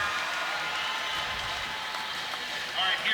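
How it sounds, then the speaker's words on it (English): An audience at a U.S. men's hot saw competition gives a round of applause for a competitor, a steady moderate patter of clapping with a slight swell at the end. "Big round of applause for Grant Foreman from Marysville, Ohio"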